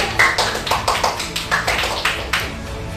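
Schoolchildren in a classroom clap for a classmate called up to the front, a quick run of about a dozen sharp, rhythmic claps at moderate volume that fades out near the end.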